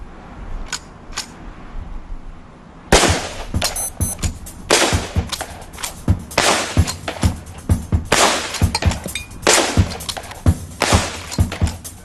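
A Henry repeating rifle fired in rapid succession, a string of loud sharp cracks at an uneven pace after a few seconds of near quiet.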